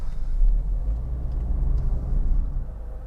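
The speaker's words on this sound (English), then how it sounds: "I'm gonna turn the vehicle off here, and then we'll start it." A car engine idles steadily with a low, continuous rumble, close and even throughout, after being switched off and started again.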